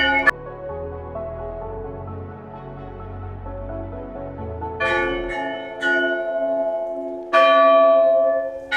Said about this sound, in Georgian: როგორც ჩანს, ზარის რეკვის ხმებსაც მოვესწარით.